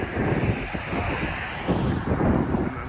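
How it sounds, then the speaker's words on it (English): Breezy, chilly outdoor wind buffeting the microphone, a continuous low roar that swells and eases in gusts, close and fairly loud with no voices. "It's a little chilly, but not too bad, and also a little breezy."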